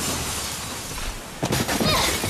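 Glass shatters in Resident Evil 4 VR, a sudden crash of breaking shards cutting through steady background noise and then scattering for about a second.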